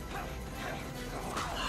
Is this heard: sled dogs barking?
yes